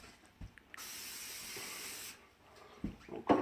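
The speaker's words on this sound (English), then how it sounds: "we're going to spray it down with Pam." A steady hiss of Pam cooking spray lasts just over a second, fairly quiet, with faint handling clicks and knocks around it.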